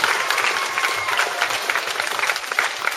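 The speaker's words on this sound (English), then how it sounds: "let's give him a round of applause" Audience applause for a performer at a circus-themed kids' holiday club show, a dense, steady patter of clapping lasting throughout without a break.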